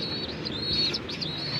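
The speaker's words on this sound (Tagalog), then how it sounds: "Yan na sila mga kalapatids." Young pigeons, offspring taking their mother's coloring, give soft cooing and chirps close by over a steady low rumble, with a thin high tone running throughout and no speech.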